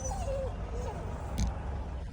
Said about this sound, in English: And then Rain's over there now, whimpering.